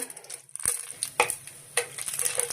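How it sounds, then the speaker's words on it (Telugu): Tempering seeds dropped into hot oil for a catering-style ivy gourd fry give close, crackling pops and a few sharp spatters over a low sizzle, with no speech. "ఇప్పుడు తాలింపు గింజలు వేయించుకుందామండి"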